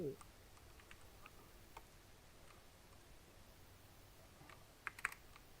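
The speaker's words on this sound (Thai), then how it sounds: "ไอเสียงกดแป้นโคตรดัง" Scattered keyboard clicks tap away quietly, with a brief cluster of sharper keystrokes near the end.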